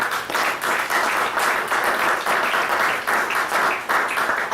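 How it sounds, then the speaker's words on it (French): A church congregation applauding in praise of Jesus: dense, sustained clapping from a crowd that swells and dips in waves for several seconds. "Acclame Jésus."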